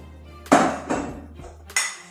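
A metal spoon scrapes and clinks against a bowl while scooping coffee grounds, with three distinct knocks spread over two seconds, close and fairly loud, no talking.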